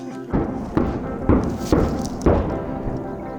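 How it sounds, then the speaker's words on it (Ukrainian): Five dull thuds at roughly even intervals, muffled and distant like far-off gunfire, over a low background rumble: Ukrainian forces firing near the front line in the Kherson region. "Це наші так стріляють."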